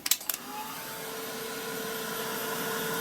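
Heat drying a layer of red paint on an art piece, opening with a few clicks and knocks before a constant, close whooshing hum of the dryer that holds steady to the end.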